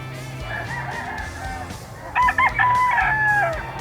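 A gamefowl rooster crows loudly and close by in a drawn-out, wavering call, with faint clucking and soft background noise before it.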